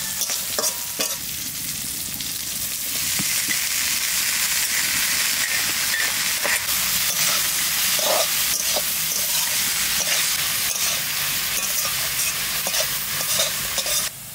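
Pumpkin flowers go into a pan with fried crab and crackle in a loud, continuous, steamy hiss, with occasional stirring clatters close by and nobody speaking.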